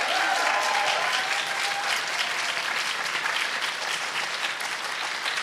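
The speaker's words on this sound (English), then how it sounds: "so can we give her a big round of applause?" A live audience applauds the guest speaker at a talk, steady dense clapping that stays loud and even from start to finish.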